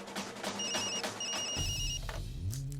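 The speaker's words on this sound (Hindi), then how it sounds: "फोन बज रहा है, सुनाई नहीं देता?" A telephone rings in short repeated electronic bursts, two clear ring pulses at moderate volume over a low background rumble, with no talking.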